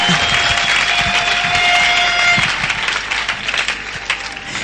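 An audience at a church convention claps in a loud burst that gradually thins and fades over a few seconds, with some crowd noise mixed in.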